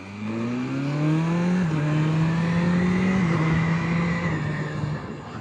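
BMW S1000RR motorcycle engine at about 4,000 RPM on a test ride, a loud, steady close-up drone with rising and stepping pitch as it pulls through the gears, mildly buzzy and vibrating.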